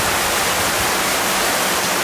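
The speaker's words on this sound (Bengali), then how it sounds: "অনেক বৃষ্টি হচ্ছে এখানে, থাকা যাবে না।" Heavy rain pours down in a continuous, dense hiss that stays loud and unbroken from start to end, with no voices over it.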